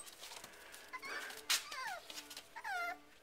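Six-week-old puppies whimper and yip in a series of short, high, sliding cries, fairly close and moderately loud, with brief pauses between them.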